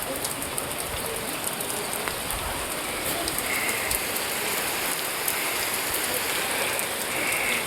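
Steady rain patters down in an even, dense hiss across the whole stretch, with scattered drops ticking close by and no break in the downpour.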